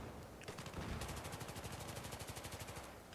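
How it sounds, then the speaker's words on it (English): Rapid suppressed automatic gunfire in Battlefield 3 on the Scrap Metal map, a steady stream of muffled shots about three seconds long, fairly quiet, with no talk over it. "Suppressed fire!"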